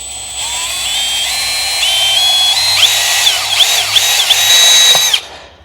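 Power drill boring a hole in metal near the coolant pipe of a BMW N62 V8 engine, a loud whining drill with rising and falling pitch over several seconds before it stops.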